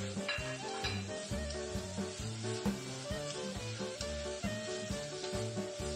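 Thawed meat sizzling steadily as it is sautéed in a pan with browned onions and garlic, a constant bright frying hiss with faint rhythmic clinks beneath, no voices.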